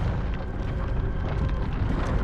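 A Confringo fire spell explodes in Hogwarts Legacy, a loud, dense, sustained rumbling blast filling the whole moment.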